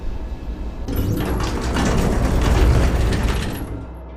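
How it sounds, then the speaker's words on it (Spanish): An elevator comes to a stop and its door slides open: a sudden loud mechanical rumble and grinding slide that swells, holds for a few seconds, then fades out. "Entonces, de repente, el ascensor se detuvo y su puerta se abrió."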